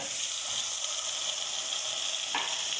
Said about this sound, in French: Vous voyez, les légumes ont revenu pendant 5 minutes. Alors maintenant, j'y mets les cèpes.